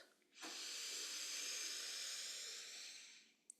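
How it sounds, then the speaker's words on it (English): A long, steady hiss of air drawn slowly in through the nose during a breathwork session, close and soft, lasting about three seconds before a brief pause. "breathing in through the nose"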